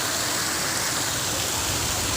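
Heavy rain pours down in a dense, steady hiss, loud and unbroken, with no voices.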